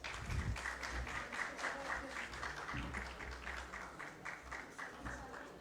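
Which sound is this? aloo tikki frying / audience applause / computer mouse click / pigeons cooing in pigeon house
audience applause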